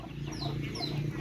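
Domestic ducks or other farm fowl make soft, steady clucking and murmuring calls close by, a continuous low chatter with no voices over it.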